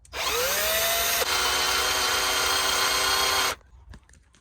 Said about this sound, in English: we'll start drilling